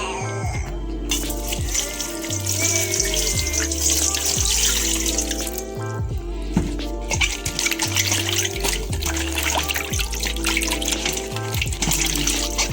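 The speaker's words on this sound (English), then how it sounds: "What I like to do is add a little salt to rinse off my cabbage." Cabbage being rinsed in salted water at a kitchen sink while preparing a Jamaican Sunday dinner; a tap runs steadily and loudly with splashing throughout, and no one speaks.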